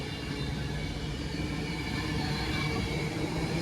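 An Avanti West Coast Pendolino runs through Stoke-on-Trent station. A loud, steady rumbling roar of rail wheels and a moving train holds without a break for the whole short stretch.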